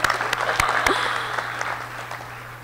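An audience at a 2013 graduation ceremony claps steadily and fairly loudly, a dense patter of many hands over a low background hum, with no talk.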